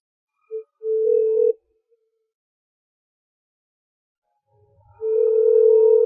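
A phone call rings out unanswered: two long, steady ringback tones sound alone, the first cut short, separated by several seconds of silence.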